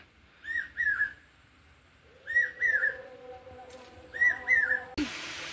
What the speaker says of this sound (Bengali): চোখ গেল পাখি ডাকছে, সেটা আপনাদেরকে শোনায় বলে